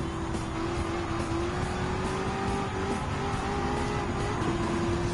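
Race car engine held at full throttle in Gran Turismo 7 during a supercar and hypercar duel, a steady loud drone with a sustained high whine that climbs slightly, running continuously with no talk.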